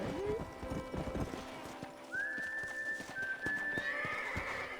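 In the video game Red Dead Redemption, a horse whinnies in a long rising and falling call at a corral over steady clip-clopping hooves, with a brief vocal squeal at the start.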